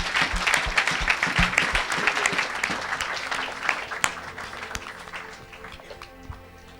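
A church congregation applauds together, dense sustained clapping with a few sharper claps standing out, loud and close, fading slightly toward the end.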